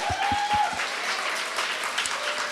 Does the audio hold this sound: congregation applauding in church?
yes